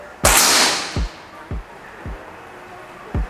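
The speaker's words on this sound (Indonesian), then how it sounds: "langsung aja tembakan yang kelima terakhir" A single sharp shot from an SR Stainless air rifle, a loud crack with a hissing release that fades, followed by several fainter thumps spaced about half a second apart.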